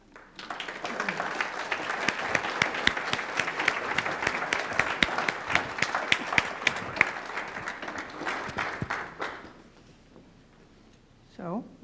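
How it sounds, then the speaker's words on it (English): An audience claps loudly and steadily for several seconds, then the applause fades out and a voice starts speaking. "Let's do another round of applause."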